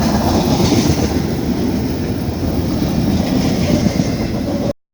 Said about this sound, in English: trains like this are kind of your constant companion on the road